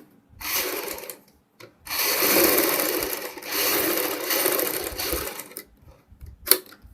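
A sewing machine stitches a fabric leaf piece for a boat neck design in several bursts of rapid whirring, separated by short pauses, and ends with a brief sharp click.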